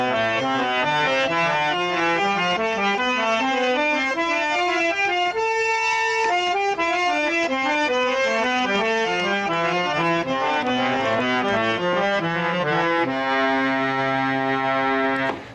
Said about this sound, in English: we can play this alankar all throughout the whole keyboard of the harmonium as follows